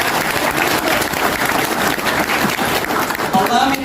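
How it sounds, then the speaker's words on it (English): A crowd applauds continuously and loudly for event hosts, a thick steady roar of clapping with a few faint voices mixed in. "a round of applause if we could for everyone who's made this"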